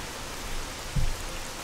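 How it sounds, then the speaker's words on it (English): Heavy rain in the video game S.T.A.L.K.E.R. Call of Pripyat, a loud, constant hiss of downpour with a brief low thump partway through and no talk. "I'll explain this when I get out of the rain. It's so loud, I can't hear myself talk."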